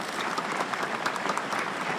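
A crowd outside a church at a funeral in Cambridge breaks into steady, moderately distant applause as the coffin passes, an even patter of many hands without speech.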